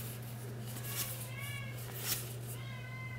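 A cat meows repeatedly in a room with a steady electrical hum, drawn-out wavering cries rising and falling across the clip, with faint talk in the background.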